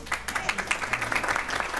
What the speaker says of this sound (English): Ladies, you get a good applause for bringing in new members.